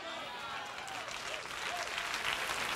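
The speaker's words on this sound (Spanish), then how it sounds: "Si ese es el aplauso, dáselo un poco mejor a tu padre" Congregation at a church sermon applauding together, a steady dense wash of clapping that swells slightly toward the end, with a voice faintly present underneath.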